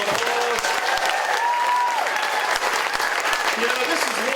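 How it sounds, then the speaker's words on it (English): Audience applause at a political speech event in Burlington, North Carolina: steady, dense clapping from a crowd filling the room, sustained loud throughout with scattered voices and cheers mixed in. "Let's give them a round of applause."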